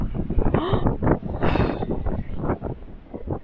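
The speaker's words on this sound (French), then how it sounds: "Quand dès le matin il y a un vent de ouf" Strong gusty wind buffets the microphone outdoors on a Paris street, roaring loud and unsteady in repeated surges with no clear pauses.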